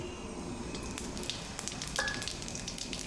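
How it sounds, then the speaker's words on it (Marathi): Cumin seeds crackling in hot oil with a little ghee, a steady close sizzle with scattered sharp pops, heard alone. "तेल छान कडकडीत तापलेलं आहे आता याच्यामध्ये मी घालणार आहे जिरे"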